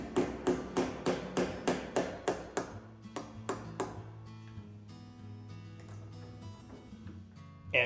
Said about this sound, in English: chiseling out the notch